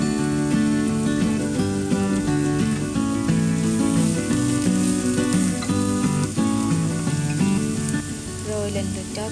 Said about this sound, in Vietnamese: Cho hành lá băm nhỏ vào trước, xào sơ cho thơm nè.